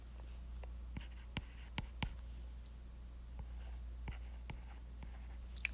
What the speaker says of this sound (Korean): 말하면서 써볼게요